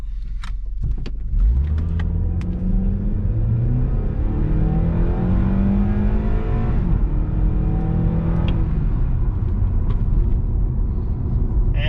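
A Honda Accord CU2 with a K24 engine and panel air filter accelerates hard in first gear in sport mode, a loud continuous engine note rising steadily in pitch, dipping briefly as it shifts, then climbing again, close and alone without talk.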